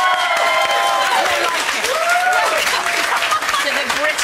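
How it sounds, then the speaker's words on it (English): A studio audience on a television chat show applauds and cheers loudly, dense clapping filling the whole stretch at close range while a presenter's voice speaks over it. "Keep the applause going."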